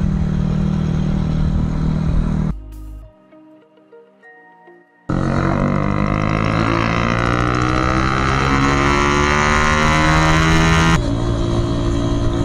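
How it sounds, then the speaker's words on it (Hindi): A motorbike engine runs loud and close, drops out briefly, then roars back with rising revs and shifting pitch as the bike accelerates on a ride, with no talk over it. "बाइक चलाने का मन कर रहा था तो बाइक तो निकाल के मैं आ गया"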